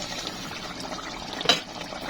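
Pieces of fried rohu fish are set into a simmering curry with potatoes; soft bubbling liquid runs throughout, with one short wet splash as a piece goes in.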